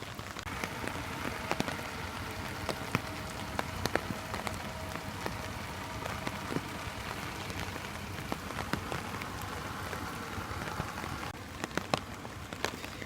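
Steady rain falls across the whole span, a dense hiss with scattered sharper drops pattering nearby; no voices.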